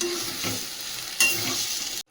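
A pan of banana-blossom curry being stirred in an iron kadai, with a steady sizzle and scraping strokes, one louder scrape midway, close and alone before cutting off abruptly.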